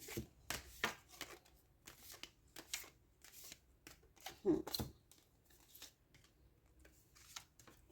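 Tarot cards being shuffled and picked by hand, giving a run of soft papery riffles and flicks with brief pauses, close and fairly quiet, under some talking.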